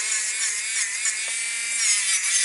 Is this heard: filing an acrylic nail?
yes